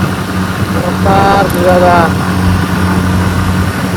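A nearby motorbike engine runs with a steady low hum on the road at Khandala Ghat, while people speak over it.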